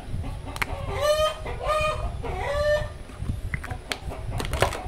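Several chickens cluck and squawk close by in overlapping bursts, with rustling and scattered clicks around them.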